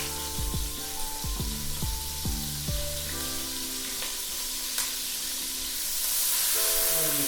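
Chopped onions hitting a hot pan with chicken fond, giving a loud, steady sizzle that fills the whole stretch, with musical tones underneath and a brief brighter hiss near the end.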